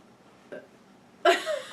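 A small, short burp sounds close by near the end, following a faint earlier throaty blip, with quiet room tone around it.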